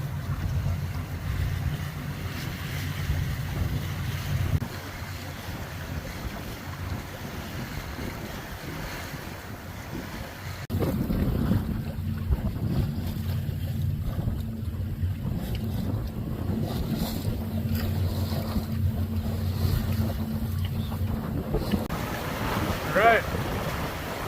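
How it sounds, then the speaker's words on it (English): Sailboat under way on open Lake Erie-style water past West Sister island with a single sailor aboard: steady wind buffeting and water rushing along the hull, with a low engine-like hum and a shift in tone midway. "Been sailing about 2 hours and we are passing West Sister."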